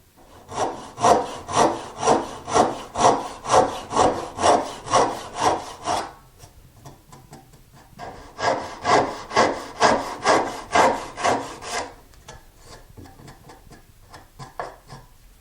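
Rhythmic strokes of a hand saw cutting wood, two long runs of steady back-and-forth rasping separated by a short pause.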